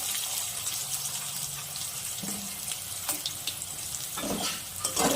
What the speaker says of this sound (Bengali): আলুগুলো আমি হালকা লাল করে ভেজে নিব।